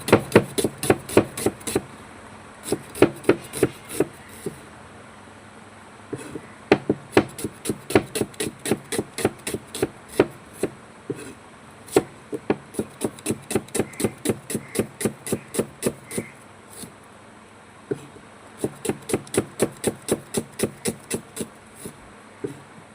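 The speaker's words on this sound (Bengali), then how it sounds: "প্রথমে পেঁয়াজটা কেটে নিলাম।" Knife on a cutting board chopping an onion for a stuffed soybean dish, with steady runs of sharp close taps in bursts and brief pauses, no talking.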